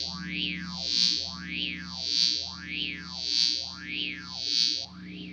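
Electric guitar chords swept by an EHX Small Stone EH4800 V4 phaser pedal, producing a slow, repeating whooshing, watery swirl that rises and falls about once per second.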